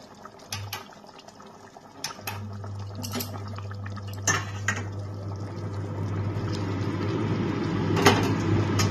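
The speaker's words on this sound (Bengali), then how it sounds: "আমি এর মধ্যে গরম জলটা দিয়ে দিচ্ছি।" Hot water is poured into a pan of potato and cauliflower curry with eggs, a rising gush of liquid and bubbling with a few clinks of the pot, growing steadily louder.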